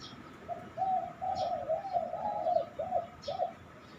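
A captive spotted dove used as a decoy bird coos in a low, rhythmic series of soft notes, fairly close and clear, with faint chirps from other birds in the background.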